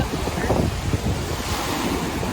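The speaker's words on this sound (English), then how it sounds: "waves are definitely a little bit bigger than they typically are" Warm Gulf surf at Orange Beach, Alabama churns during Tropical Storm Marco, a constant roaring wash of breaking waves buffeted by heavy wind gusts against the microphone, loud and close.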